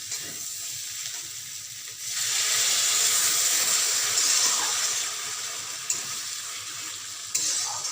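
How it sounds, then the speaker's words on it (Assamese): Hot water poured into a sizzling Assamese-style paneer gravy in a pan, set off by a sudden loud steamy hiss and crackle that rises sharply, holds, then eases to a steady simmering fry, close with no talk. "গৰম পানী দিব অলপ"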